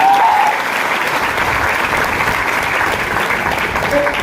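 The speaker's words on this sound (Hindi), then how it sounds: "जोरदार तालियां होना चाहिए।" Loud, dense audience applause fills the whole stretch at a steady level, a large crowd clapping together at a motivational business training event.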